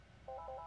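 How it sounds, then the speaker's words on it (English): A telephone rings nearby, a short electronic warbling tone pulsing twice in quick succession, fairly faint against a low room hum. "there goes the phone"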